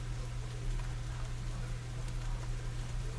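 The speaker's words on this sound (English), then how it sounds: "Can you hear the rain behind me now? The little pitter patter of raindrops on leaves." Steady rain pattering on leaves outdoors, a dense continuous hiss of raindrops at moderate level over a constant low hum, with no talk.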